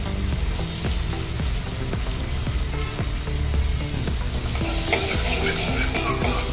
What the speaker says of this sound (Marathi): आता अमूल बटर चांगले मेल्ट झाले की मी त्यामध्ये हे लसूण सोडणार आहे